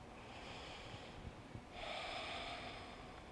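Slow, deliberate breathing during a morning vinyasa yoga flow, a soft airy inhale then a longer, fuller breath, close and steady with no talking.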